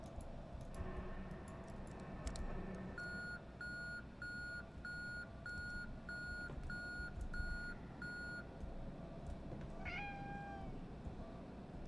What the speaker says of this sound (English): Was that my hand thing beeping?